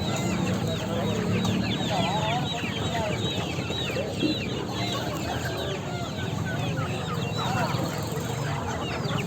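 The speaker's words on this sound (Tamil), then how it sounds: "அது என்ன கினிக்கோழி தானே?" Many guinea fowl clucking and calling together in a busy, noisy chorus, with people talking faintly underneath throughout.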